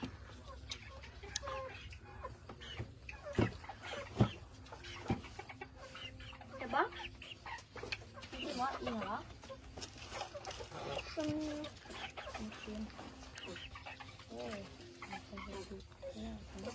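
Chickens clucking around a poor rural household near Pakse, with scattered clucks and short calls over steady background noise and occasional other animal or household sounds, while people talk nearby.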